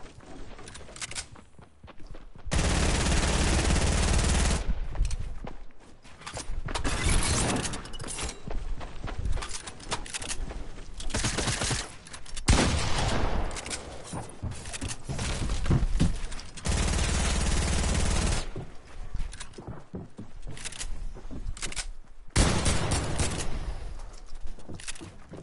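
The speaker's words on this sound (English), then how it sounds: "Who's shooting me?" Video game gunfire comes in a run of loud automatic bursts and single shots, some long and sustained, separated by short quiet gaps across the stretch.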